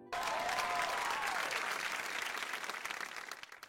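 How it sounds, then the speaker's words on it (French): Loud, sustained audience applause and crowd noise at a Jersey Shore reunion show, starting abruptly and holding at full intensity before slowly thinning toward the end. "Applaudissez-les bien fort"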